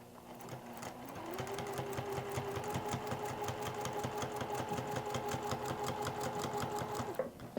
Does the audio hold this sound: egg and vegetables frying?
no